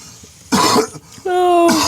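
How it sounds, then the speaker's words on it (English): A sharp cough burst from a person nearby, followed by a brief pause and then a strained, voiced throat sound. "I can't get that cough out of my damn throat."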